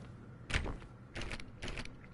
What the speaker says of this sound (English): Okay, can't open that door